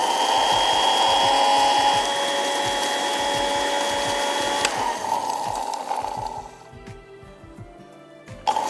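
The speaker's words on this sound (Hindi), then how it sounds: "अब हमने इसको पीसना है।" An electric grinder whirs as it grinds spices for mango pickle with salt and dry mango powder (amchur), a loud steady motor drone with rhythmic rattling. It cuts out partway through, leaving faint clatter, then briefly restarts at the end.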